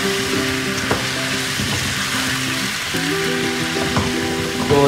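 Chicken karahi frying in hot oil with fresh tomato purée, a steady loud sizzle and crackle close by, with occasional stirring scrapes and clinks over the continuous hiss.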